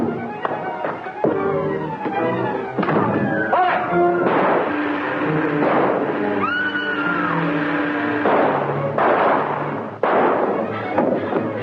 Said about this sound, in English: I'll shoot my way out the front.